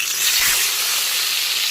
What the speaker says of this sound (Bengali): এখন আমি হলুদ মাখানো মাছের মাথাগুলোকে তেলের মধ্যে দিয়ে দেব।